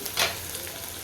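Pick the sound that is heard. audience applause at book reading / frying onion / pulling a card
frying onion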